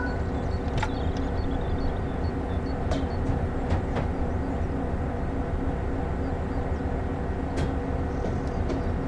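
A continuous low rumble of an MP36PH-3C locomotive engine in Train Sim World 5 drones steadily, with a few faint clicks and high ticks scattered over it.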